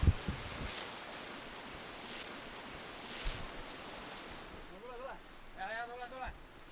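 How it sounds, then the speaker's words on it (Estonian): Fast-flowing river water rushes in a steady, moderately loud broadband wash, with gusty surges, as a voice speaks briefly near the end. "see jõgi on päris kuradi kiirevooluline"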